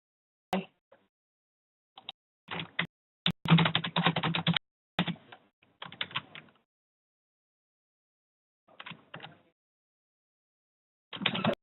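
Keys clatter on a computer keyboard in short irregular bursts of rapid typing separated by silent pauses, close and clear with no speech.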